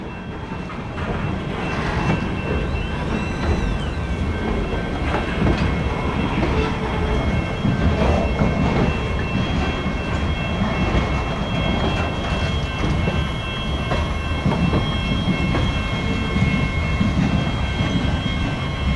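Eastbound Norfolk Southern local freight train rolling through Fostoria, Ohio, a steady loud rumble of rail cars and wheels on track holding for the whole stretch, with faint clickety-clack and thin metallic squeal above it.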